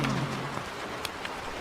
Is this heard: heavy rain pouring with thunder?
yes